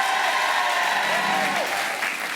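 Studio audience on a French evening talk show applauds a contestant, steady close clapping that holds evenly for a couple of seconds before easing slightly, with a sung or whistled tone briefly riding above it.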